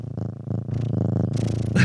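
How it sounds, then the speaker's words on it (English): A cat purring close to the microphone, a loud, steady rhythmic rumble of pulsing breaths with no talking. "He's just purring."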